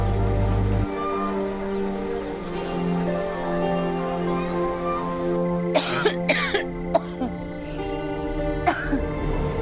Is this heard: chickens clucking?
no